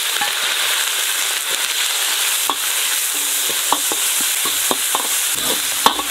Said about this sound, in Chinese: 放入五花肉丁